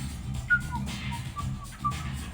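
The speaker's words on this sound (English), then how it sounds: "Are you whistling?" A character whistles in Mass Effect 3, a few short, thin tonal notes with small pitch glides over a low, steady bed of in-game music and ambience.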